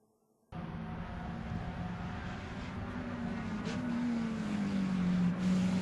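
Touring race cars roar around Thunderhill Raceway, engines cutting in suddenly after a brief silence and building in volume as a car climbs through the revs and passes close by.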